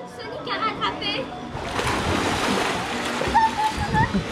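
Children splashing in the water at a posada in Maracaibo, Venezuela, a steady wash of splashes and sloshing close by, with voices talking over it.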